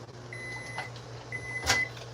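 Microwave oven inside an RV kitchen, running with a steady low hum plus a high tone and soft clicks, heard close and alone, with no talk.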